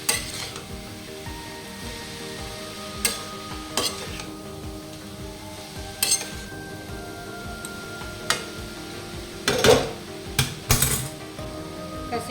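Jackfruit curry with cashews stirred in a pan: a spoon scrapes and clinks against the metal at irregular intervals over a steady low sizzle, close and fairly loud, with no talking.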